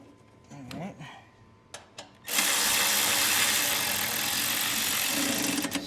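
Ratchet snugging bolts into the sheet metal of a snow blower, a steady mechanical whirring burst that starts after a few light knocks and handling clicks and then runs loud and close for several seconds.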